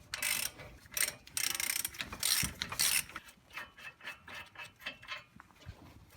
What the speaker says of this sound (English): Continue with the ratchet.